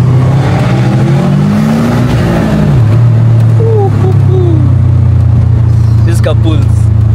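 Subaru GC8 Impreza WRX Type R version 2 with an STI engine accelerating, a loud close engine drone rising in pitch through the gears and then holding steady, with a person talking over it.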